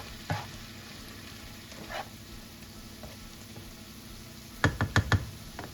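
A pan of gravy sizzles quietly and steadily, with a few soft spoon knocks early on and a quick burst of four or five sharper taps against the pan near the end.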